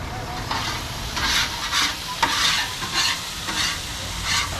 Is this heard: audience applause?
no